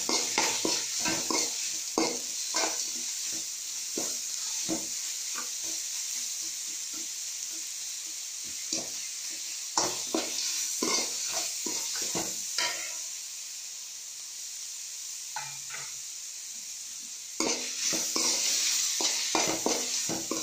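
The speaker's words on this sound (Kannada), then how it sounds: "ನೋಡಿ ಈರುಳ್ಳಿ ಎಲ್ಲ ಬೇಯ್ತಾ ಇದೆ. ಈ ಸ್ಟೇಜ್ ನಾವು ಮಾವಿನಕಾಯಿ ಸೇರ್ಸೋಣ." Chopped onions and raw mango sizzle in hot oil in a pan for mavinakayi chitranna, with a steady hiss and repeated scraping stir strokes of a spoon against the pan, close and alone.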